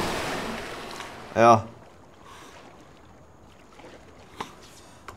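In the video game Farming Simulator 25, a tractor drives into pond water, making one short, loud splash followed by soft watery ambience and a faint later knock, with a single brief spoken word.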